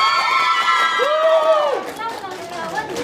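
Guests at a thanksgiving party clap and cheer loudly for their table in an applause contest. The noisy crowd roar with shouting voices fades partway through.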